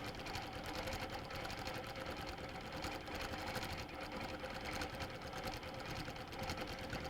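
A sewing machine stitches a quilt, its steady, rapid mechanical chatter running continuously at an even pace, close and moderately quiet, with no talk over it.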